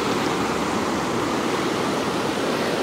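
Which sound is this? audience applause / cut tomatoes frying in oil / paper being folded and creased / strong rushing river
strong rushing river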